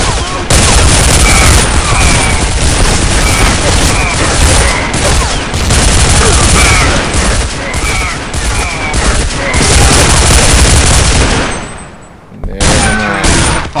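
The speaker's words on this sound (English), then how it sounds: "Welcome to the first firefight in the game." Heavy gunfire fills a firefight in the video game Heart of Evil, with dense overlapping volleys and booming shots running almost continuously. A brief lull comes near the end before the shooting resumes, and voices are faintly heard beneath it.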